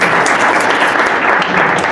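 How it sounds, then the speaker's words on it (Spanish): Dense, steady applause from a large audience at a technology leaders' panel, filling the whole moment at close range with no pause or break. "Un aplauso."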